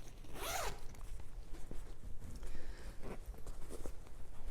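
The zipper on a Buckthorn tote bag is pulled open in one quick, close rasping stroke, followed by faint handling rustles and soft taps.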